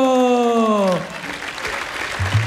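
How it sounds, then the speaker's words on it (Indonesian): An audience at an Indonesian televised dance-battle show breaks into applause, loud and sustained, after a held sung or spoken note fades out. "Tepuk tangan dulu."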